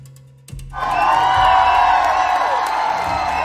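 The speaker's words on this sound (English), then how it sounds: "Laughter and applause rippled through the crowd." A crowd bursts into loud, sustained laughter and applause after a brief quiet start, the mix of cheers and clapping holding steady and full to the end.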